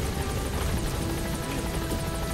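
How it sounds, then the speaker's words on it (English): Support helicopter arriving in the video game Metal Gear Solid V, a steady close rotor drone with whirring blade chop holding evenly throughout, no voices over it. "Support helicopter has arrived."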